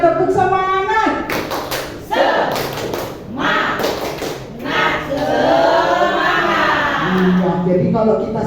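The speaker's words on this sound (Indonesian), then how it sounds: "Nah, ayo beri tepuk semangat!" Group of schoolchildren and teachers at an Indonesian elementary school doing a rhythmic cheer clap, loud patterned bursts of hands clapping mixed with shouting voices throughout.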